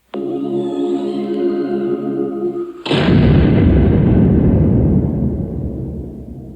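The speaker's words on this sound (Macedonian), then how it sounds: "И тогаш одекна истрели." A steady humming tone is broken by a single loud, booming gunshot that rumbles on and slowly fades.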